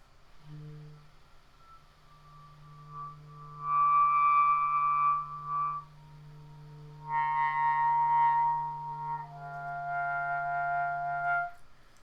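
A clarinet sustains soft overtone multiphonics, several pitches sounding together with a low drone beneath, in two long swelling phrases with brief quieter gaps, close and solo.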